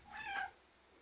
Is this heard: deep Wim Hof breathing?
no